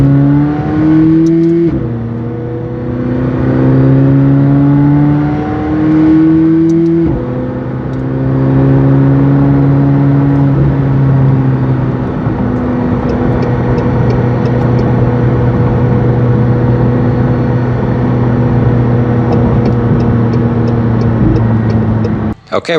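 A 2019 McLaren 720S Performance with an FI exhaust revs loudly and close by, with several rising and falling sweeps that settle into a steady engine hum.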